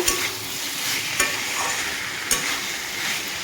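Potato, bori, tomato and squash cooking in a pan for a Bengali curry: a loud, steady sizzle with a few clear scrapes of the spatula stirring, close up and with no talk.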